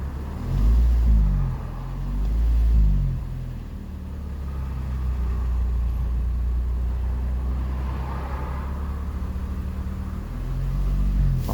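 An Audi A3 engine idles after a carbon cleaning, producing a low, steady rumble close by with slight swells in level and no talking over it.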